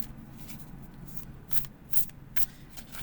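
Quick riffling bursts of tarot cards being shuffled, several short crisp flurries in a quiet room.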